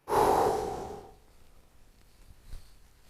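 One forceful exhale during exercise opens with a loud, breathy rush that fades over about a second, followed by quiet room tone and a faint soft thump.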